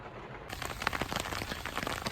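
Rain patters steadily on leaves and ground in a Minnesota woodland, a soft, even hiss scattered with faint individual drops, fairly quiet and with no talking.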